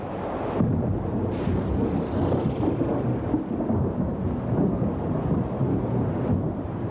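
Deep, rolling thunder rumbles continuously for several seconds, low and heavy, with a faint hiss of rain or wind beneath it.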